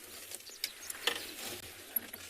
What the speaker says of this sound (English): That sound you heard was the eastern clapper lark.